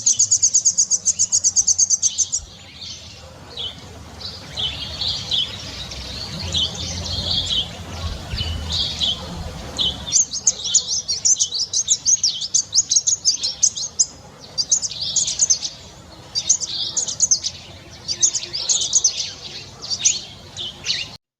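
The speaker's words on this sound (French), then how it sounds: "Ce sont des couinements stridents et des gazouillis assez rythmés quand même." A pin-tailed whydah sings in a strident, high-pitched run of squeaks and rhythmic twittering chirps that stop briefly and then resume in quick repeated bursts. The song is close and clear over a soft low background.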